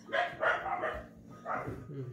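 A dog barks a few times nearby, its short bursts overlapping with people talking in a home setting.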